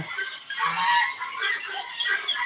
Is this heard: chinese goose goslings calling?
yes